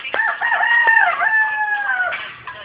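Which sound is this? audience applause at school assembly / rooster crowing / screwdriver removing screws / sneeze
rooster crowing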